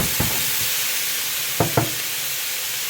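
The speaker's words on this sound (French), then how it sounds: "poêle brûlante, viande assaisonnée et c'est parti" Seasoned meat hitting a scorching hot pan, a loud continuous sizzle and hiss of frying with a few sharp clicks as pieces are placed or shifted, close up and without voices.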